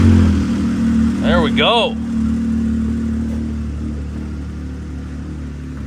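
A Can-Am X3 side-by-side caked in mud, not run for about a month, gives a steady low engine rumble with a brief rise early on, while a voice speaks briefly over it.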